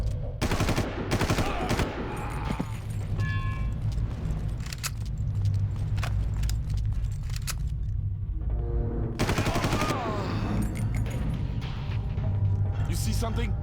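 Bursts of automatic gunfire in the Far Cry video game, dense rapid volleys in two main stretches, loud and close, set over steady engine-like background noise, with someone talking over parts of it.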